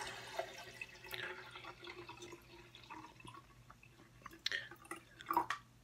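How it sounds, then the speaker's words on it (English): Water poured into a glass for an image-reversal demonstration, faint trickling and small splashes with a few brief clinks, close and quiet against a low steady hum. "Now, if I'm adding water"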